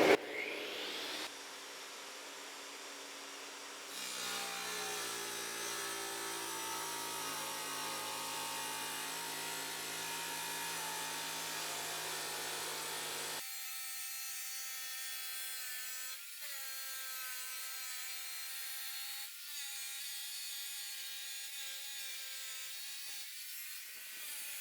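A power tool cutting a large floor tile for a bathroom floor, a long steady whining grind that shifts pitch partway through and runs alone without talk.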